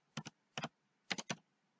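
Typing on a computer keyboard: four quick pairs of crisp, close key clicks spaced out in a quiet room, with nobody speaking.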